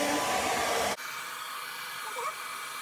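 A hair dryer set to heat 1 and power 2 blows steadily and loudly on hair, its broadband rush abruptly dropping to a softer, duller airflow partway through as it is moved, then continuing evenly.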